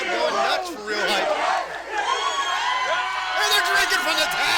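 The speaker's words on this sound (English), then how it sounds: "And the crowd going nuts for Real Hype." A wrestling event crowd roars and chants loudly and close, with rhythmic shouted cheers rising and falling across the stretch and voices yelling over it.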